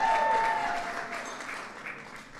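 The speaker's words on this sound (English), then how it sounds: "Give him a big round of applause." An audience applauds at a White House Cinco de Mayo celebration, a dense wash of clapping in a large room that is loudest at the start and tapers gradually. A faint tonal ring sits under it.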